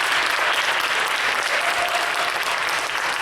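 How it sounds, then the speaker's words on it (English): Audience applauding the finalists at a high school debate final round, a dense, steady wash of clapping that stays loud and even throughout, with no talking over it. "Let's give these young people a round of applause here."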